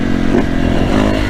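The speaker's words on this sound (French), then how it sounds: "Mais sinon, c'est quand même une sacrée moto." A 2014 Yamaha YZF 450 fuel-injected dirt bike engine runs loud and close, a steady rough roar with slight rises in revs and no talking.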